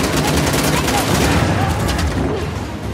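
Sniper gunfire in Uncharted: The Lost Legacy, heard as loud, dense shooting and bursts within a chaotic firefight, with a person talking over the noise.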